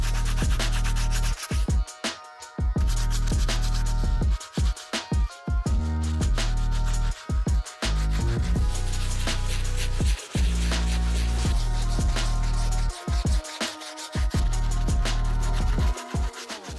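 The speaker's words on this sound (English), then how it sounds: "we're gonna go straight to using the Soft Bristle Brush to clean out the midsoles and outsoles" Soft-bristle brush scrubbing the midsoles and outsoles of trashed Air Jordan 1 sneakers, with steady close rubbing strokes broken by short pauses and clicks throughout, no voices.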